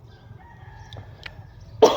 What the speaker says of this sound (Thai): แจ้งออกเสียงเลย